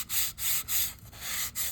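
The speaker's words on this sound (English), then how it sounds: "I'm just going to refine the sanding on the bottom just to get a slightly tighter fit when I glue it on." Rough sandpaper rubs against the bottom of a handmade ukulele in short back-and-forth strokes, five or six loud close rasping passes in quick rhythm.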